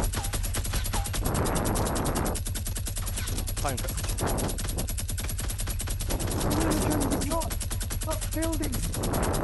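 A gold minigun fires continuously in the video game Fortnite. The shots come as a rapid, dense, unbroken stream for the whole stretch while players shout excitedly over it.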